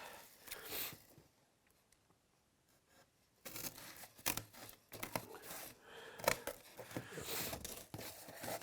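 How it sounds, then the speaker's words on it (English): Scissors snipping and crunching through stiff cardboard, cutting out a tile template shape, in irregular bursts after a quiet pause, close up, with a few rustles. "I'll go back to my scissors now and cut this shape out."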